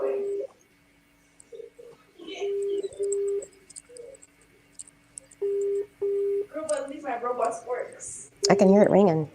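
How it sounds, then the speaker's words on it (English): A telephone rings on a call, a repeated pattern of short, evenly spaced tonal bursts heard through the line, with people talking over and between the rings. "I can hear it ringing."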